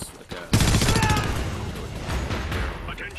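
An M4 rifle in the video game Homefront fires a loud, rapid burst after a brief quiet start, with rattling shots packed close together that ring on and taper slightly toward the end.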